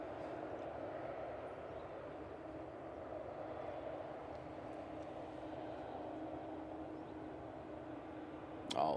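Emirates airliner landing at Manchester Airport, a steady broad jet roar held at even loudness throughout, with a faint voice murmuring beneath and a brief louder burst right at the end.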